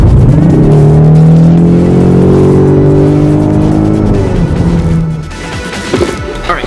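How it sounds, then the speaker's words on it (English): Ford EcoBoost Mustang with a 2.3 liter turbocharged inline four accelerating at full throttle, a loud close engine note rising steadily in pitch before fading away after about five seconds. "I'm just gonna put my foot to the floor."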